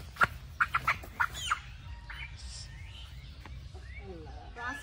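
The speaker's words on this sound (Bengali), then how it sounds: "এই যে রকি জবাই করতেছে মুরগিগুলা" Chickens squawking while being slaughtered, a quick burst of five or six sharp, close squawks followed by fainter scattered calls over low background rumble and a voice.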